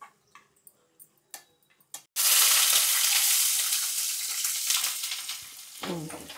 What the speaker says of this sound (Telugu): చక్కగా వేగుతున్నాయి.